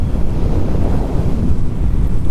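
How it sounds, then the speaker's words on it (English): Strong wind buffets the microphone at Utah Beach in Normandy, a loud, continuous low roar with rumbling gusts. "Ooh, this wind, holy moly."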